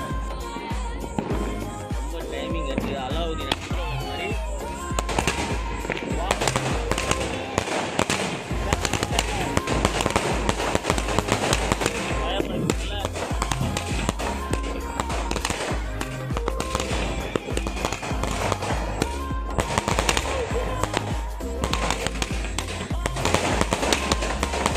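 Rapid, continuous bursts of a 60-shot fireworks cake crackle and pop for the whole stretch at a Diwali celebration at night, loud and dense, with a busy barrage of repeated shots.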